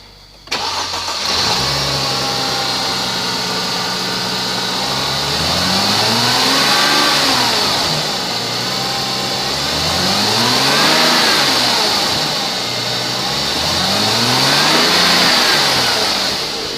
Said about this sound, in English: 2006 Mercedes Benz C230 engine run video